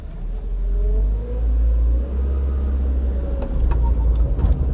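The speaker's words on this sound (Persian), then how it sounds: "میرسیم به تست رانندگی این ماشین" Peugeot 405 SLX with its stock, never-opened TU5 engine on a test drive: a steady low engine rumble with rising revs as the car accelerates, close and continuous, with no talk.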